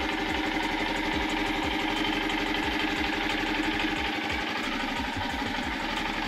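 A Honda Grom motorcycle on its stock exhaust idles after a cold start, a steady low, throbbing engine note with a faint rhythmic pulse, close and continuous with no talking.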